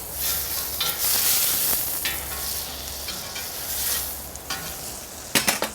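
Butter and olive oil sizzle loudly in a pan before French toast goes in, a dense steady hiss with a few sharp clinks and scrapes near the end, close by and without talk.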